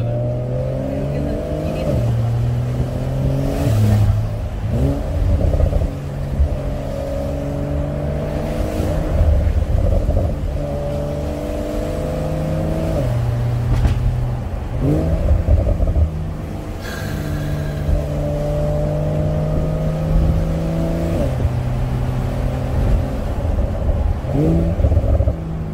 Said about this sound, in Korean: 배기가 이제는 마음에 들어졌어요.